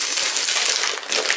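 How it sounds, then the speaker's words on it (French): Bubble wrap packaging being handled and crinkled while an advent calendar parcel is unwrapped, giving a continuous close, bright crackling and rustling with small pops throughout. "Et du papier bulle."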